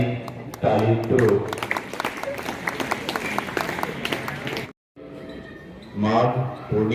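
Students seated in a school courtyard for a Sant Ravidas Jayanti assembly clap in rhythmic 'sainik' style, crisp repeated unison beats filling several seconds. A voice speaks over the clapping, then a brief pause comes before the sound resumes.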